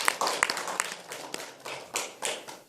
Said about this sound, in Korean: 박수 한번 줘